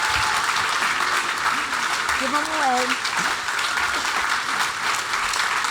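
An audience at a Gaithersburg High School event applauds David Trone with sustained, loud clapping, while a speaker talks briefly over it.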